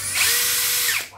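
Cordless drill from a batch of Japanese domestic-market battery drills, its metal 10 mm keyless chuck with spindle lock being turned to tighten the bit. A steady whirring motor runs alone for about a second, then winds down.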